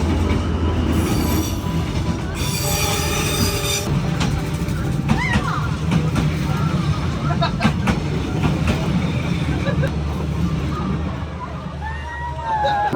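A train rolls through Hanoi's narrow Train Street, its wheels squealing and clattering steadily close by, with bursts of a horn and people chatting and exclaiming throughout.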